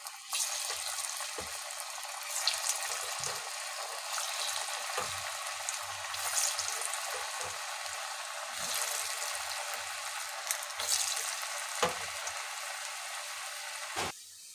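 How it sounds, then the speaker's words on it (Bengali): Sweet potato sweets deep-fry in hot oil, giving a continuous bright sizzling hiss with small crackling bursts and a few soft knocks throughout, steady and fairly close. "তেল গরম হয়ে গেছে, এবার মিষ্টিগুলো ছেড়ে ভেজে নেব।"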